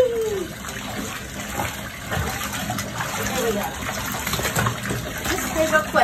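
Water splashes and pours during a baby's first bath at home, with gushing and dribbling throughout, while an adult talks to the baby over it.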